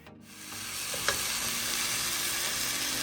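Rice frying and sizzling in vegetable oil with green seasoning, a steady close hiss with faint scraping as it is stirred, one brief clink near the start.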